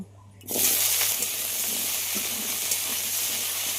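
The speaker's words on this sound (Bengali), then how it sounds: "এতে আবার একটু সর্ষের তেল দিয়ে দিলাম এবার গাঁটি কচুগুলো ভেজে নেব" Taro corms frying in hot mustard oil, a loud sizzle that bursts up abruptly as they hit the pan, then holds as a steady, close hiss and crackle with no talking.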